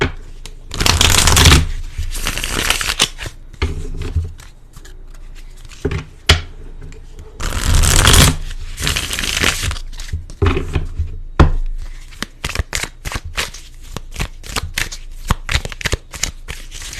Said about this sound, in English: So I'm going to pull a few more cards here.